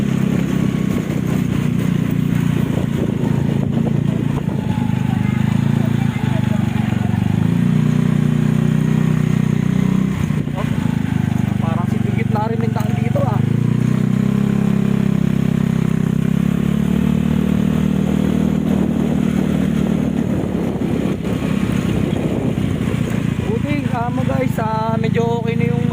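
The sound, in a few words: motorcycle riding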